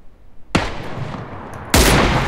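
SKS rifle firing in PUBG Lite, two sharp, loud gunshots roughly a second apart, each with a burst of crack and echoing tail, close to the listener.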